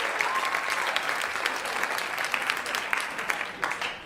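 An audience at a comedy show claps and applauds steadily and loudly for a few seconds, a dense wash of hand claps with no voices on top.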